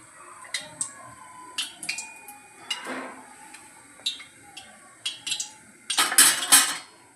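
A spoon stirs a rice fritter mixture in a pan, making a series of irregular clinks and scrapes against the metal, ending in a louder cluster of clattering strikes; no voices.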